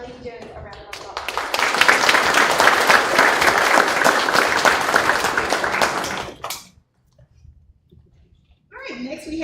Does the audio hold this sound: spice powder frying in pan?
no